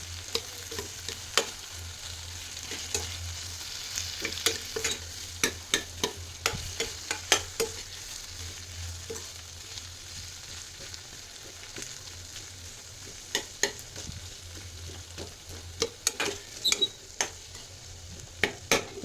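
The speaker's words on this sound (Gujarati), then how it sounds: "આવી રીતે આપણે એને છૂંદી નાખશું." Mysore dosa filling being mashed in a frying pan, with a steady low sizzle and repeated sharp taps and scrapes of a utensil against the pan, growing busier toward the end, close and alone without talk.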